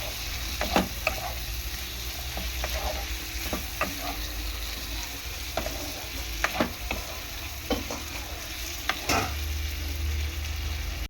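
Small bele fish curry with green tomato is stirred with salt in a pan, a continuous close sizzle with scattered scraping strokes and light knocks of the spatula, moderately quiet and without talk.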